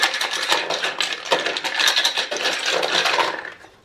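A hand plunging into a container of metal keys, jangling and clinking continuously up close for a few seconds before fading at the end.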